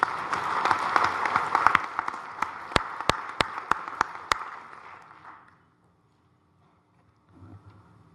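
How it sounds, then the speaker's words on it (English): Audience applause fills a stockholders meeting hall, dense and steady at first, then thinning out with a few isolated loud claps before fading to near silence. "Let us welcome the elected director with a warm round of applause."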